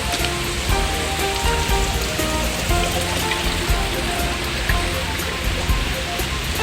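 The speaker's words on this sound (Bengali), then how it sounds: "যদি মাথায় বৃষ্টি পড়ে, সময় যাচ্ছে খারাপ, দেখা যাচ্ছে মাথায় বৃষ্টি পড়লে" Heavy rain falls on a hillside in London, a loud, dense and constant patter drumming on nearby surfaces with no pauses and no voices.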